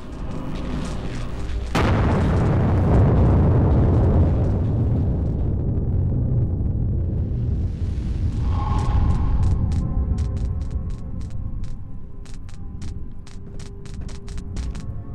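A portal opening in Amnesia: The Dark Descent, heard as a sudden loud rumbling boom that swells into a sustained roaring surge and later gives way to a low hum with sharp, repeated ringing clicks.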